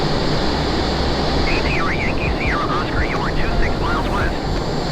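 An F/A-18 Super Hornet flight simulator replay carries a steady loud jet engine roar throughout, with someone talking over it and some faint warbling tones partway through.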